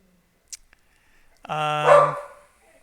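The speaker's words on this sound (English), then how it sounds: "Sorry, my dog is seeing somebody" A pet dog indoors gives a single loud, harmonic bark, drawn out for about a second, at someone it sees outside. A couple of small clicks and movement sounds come before the bark, and no voices are heard.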